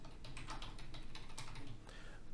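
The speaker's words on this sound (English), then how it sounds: "I can type something." Fingers typing on a computer keyboard, a quick irregular run of soft key clicks heard up close over a faint background hum.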